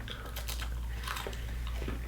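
Someone crunches on crispy Korean snacks up close, a run of sharp, irregular crackling bites and chews layered over a low steady hum.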